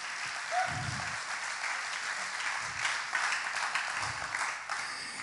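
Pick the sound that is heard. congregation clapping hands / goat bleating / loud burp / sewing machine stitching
congregation clapping hands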